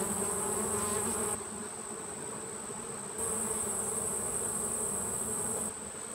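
Honey bees from a colony buzz during a hive inspection, a dense and steady hum held close throughout with slight shifts in level and no talking.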